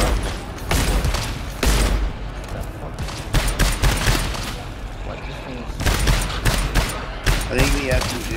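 Automatic rifle fire in GTFO, loud sustained bursts of rapid shots with short pauses between them and a few metallic mechanism clicks.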